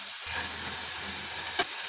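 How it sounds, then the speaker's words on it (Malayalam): Raisins sizzle in oil left over from frying onions, a steady close hiss that starts abruptly and holds for about two seconds, with a brief clink near the end. "ഉള്ളി വറുത്ത എണ്ണയിലേക്കാണ് മുന്തിരിങ്ങ ഇടുന്നത്."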